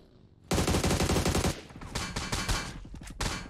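Bursts of automatic gunfire in the PUBG Mobile battle royale game, a loud close volley of rapid shots followed by several shorter stuttering bursts, with no talking over them.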